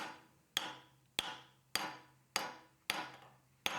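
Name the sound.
mallet hammering on a hardened knife blade in a vise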